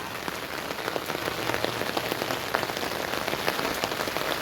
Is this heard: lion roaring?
no